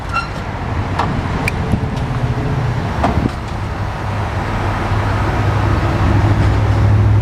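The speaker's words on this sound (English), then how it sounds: "So you can see the lift unfolds and goes down, and it'll go back up just as easy." The wheelchair lift on a Kodiak shuttle bus unfolds and lowers with a steady low motor hum, scattered mechanical clicks and clunks, and a drone that grows louder toward the end. The sound is close and loud, with no talking.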